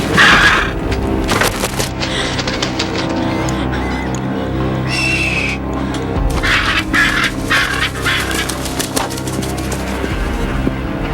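Goose or duck squawks loudly and repeatedly in harsh, honking bursts close by, with scuffling noises between the calls.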